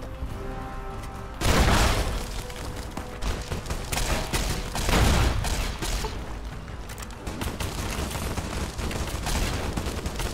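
Gunfire in Fallout: New Vegas, with sustained, dense bursts of loud shots and booming impacts that crowd closely together after a brief quiet start, rattling on steadily to the end.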